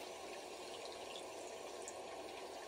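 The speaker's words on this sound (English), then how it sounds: "listen to my voice and the sounds of the water" Steady running water sound on a relaxation recording, a continuous broadband wash of water like a filling tap or gentle stream, faint and unbroken throughout with no voice.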